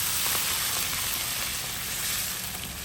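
Water poured into browned spice paste in a hot pan for fish rica rica, a loud, broad, continuous sizzle and hiss that fades slightly toward the end, with no talk.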